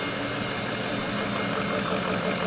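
A 2003 Ford F350 Super Duty pickup with a 6.0 liter engine idles in a steady, dense rumble with faint knocking texture, constant and unbroken throughout.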